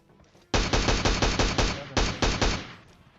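SLR rifle fire in PUBG Mobile comes as a rapid run of about ten loud, evenly spaced shots that start abruptly and are heard up close and alone.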